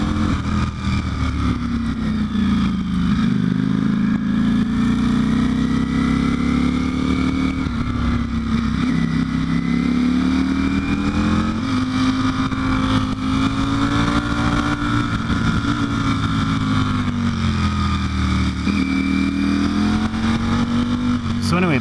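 A Ducati Panigale V4 Speciale is ridden through canyon roads, its engine note rising and falling continuously through gear changes and corners, loud and close with wind rush and no speech.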